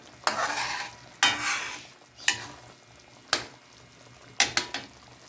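Fresh coconut milk simmering in a pan for biko, with a soft bubbling sizzle broken by several sharp spatula scrapes and stirring strokes, close by.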